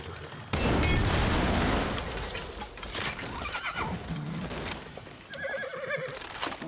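A horse in the video game Far Cry 6 gives a loud whinny, followed by hooves clip-clopping, with bursts of game gunfire and ambient effects around it.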